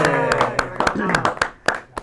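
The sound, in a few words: audience clapping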